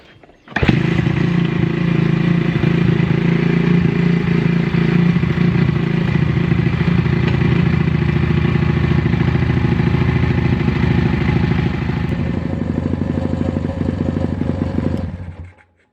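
A 140 pit bike engine kicks over and settles into a steady, loud idle, running close and alone for about fifteen seconds before cutting off.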